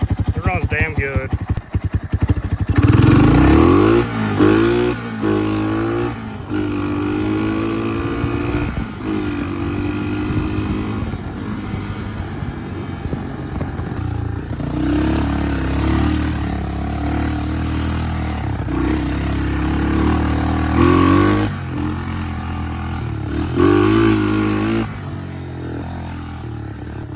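A Honda Big Red three-wheeler, a barn find, runs with its engine rising and falling through revs, steady loud mechanical clatter throughout, with a voice talking over parts of it.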